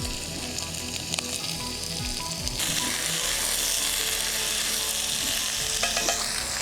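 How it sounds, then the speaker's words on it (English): Chopped onions sizzle in light olive oil in a pot for a lamb shoulder chop stew, a steady close frying hiss that swells louder and brighter partway through, with no voices. "Let this onion just simmer a little bit."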